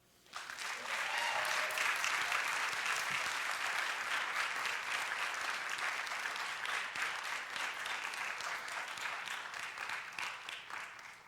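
An audience at an education awards talk applauds the recipient of the 2019 Allen Lesko Award with a sustained, dense round of clapping that starts abruptly, stays full and eases off slightly toward the end.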